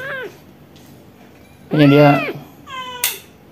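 Rescued cats outdoors let out several meows: a brief cry at the start, then a loud drawn-out meow and a quicker one near the end, with a person speaking briefly between them.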